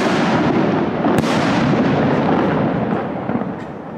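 Fireworks going off in Valencia during the 2018 festivities, a dense, continuous barrage of loud crackling bangs and blasts, close by and unbroken for the whole stretch, with one sharper report standing out near the middle.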